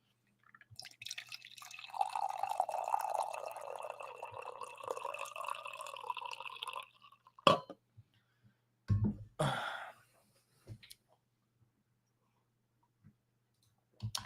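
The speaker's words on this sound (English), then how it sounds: "time for coffee. It's going to be a sad pour." The last bit of coffee poured from a nearly empty pot, a steady liquid trickle running for several seconds, then a few sparse drips and clinks close by, with no talking.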